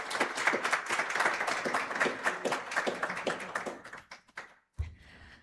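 An audience claps after a speech, giving dense, lively applause for about four seconds. The clapping then thins out to a few scattered claps and ends with a thump.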